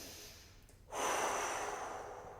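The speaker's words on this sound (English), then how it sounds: "Breathing." One deep, audible breath during a full-body stretching session, a quiet lull and then a long airy exhale or inhale that swells suddenly and slowly tapers, close to the mic.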